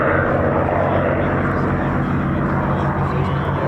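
A Messerschmitt Bf 108 propeller aircraft flies overhead at an airshow, a loud, steady engine drone that fills the whole stretch. A public-address voice talks over it.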